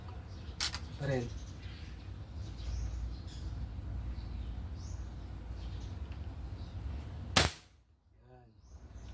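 A single sharp, loud Nimrod CO2 air gun crack near the end, followed by a sudden drop to near silence; faint clicks and a brief snap earlier.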